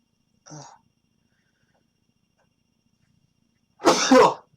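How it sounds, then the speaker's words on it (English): A short sneeze-like burst, then near-silence, then a louder, sharper sneeze close up. "I'm going to sneeze again."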